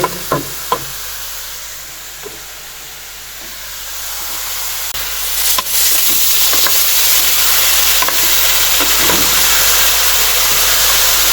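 Chicken karahi with ginger-garlic paste fries over a high flame, a loud, steady sizzle and hiss close by, with a few clinks of stirring near the start before the frying swells and settles into a continuous roar.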